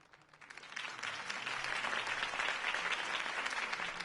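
Crowd applause swells up and holds steady after Harvey Dent's campaign speech in Batman: The Telltale Series, a dense wash of many hands clapping.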